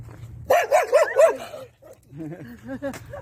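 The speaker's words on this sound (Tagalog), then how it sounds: "Ayan, tinahula kami ng aso." A dog barks several times in a quick burst on a street in downtown Toronto, then gives a few softer, whiny yelps; fairly close, with quiet background noise.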